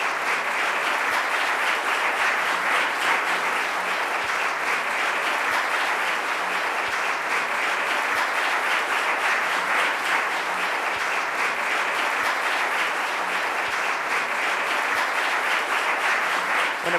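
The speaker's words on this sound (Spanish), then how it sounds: "Otro aplauso" Sustained, loud audience applause fills a hall in honour of the naiperas, women playing-card makers being recognised at a ceremony, steady and dense throughout with no pause.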